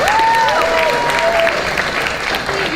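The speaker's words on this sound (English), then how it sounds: "Another huge round of applause and make some noise, guys." A crowd at a junior entrepreneurship forum claps and cheers loudly, with whistles and shouts rising above a dense, sustained wall of applause.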